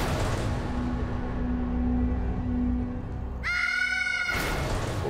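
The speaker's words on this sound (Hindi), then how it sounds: "बहुत जोर से चीखी है।" A woman screams loudly in a short burst of high, strained harmonic cry lasting about a second near the end, following a steady background drone, with no speech.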